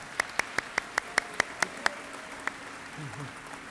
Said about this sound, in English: Everyone, please join me in giving these students a well-deserved round of applause.